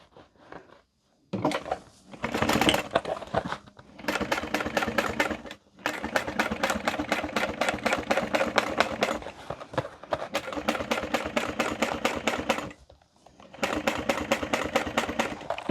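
A sewing machine top stitching a large joined panel of a handbag runs in several loud, steady bursts of rapid needle rattle, separated by short pauses.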